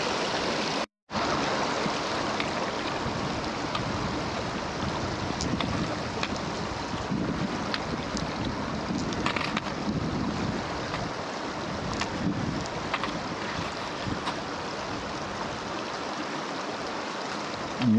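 A river in Jotunheimen National Park rushes steadily, a dense, continuous roar of flowing water heard up close, with wind buffeting the microphone and no voices.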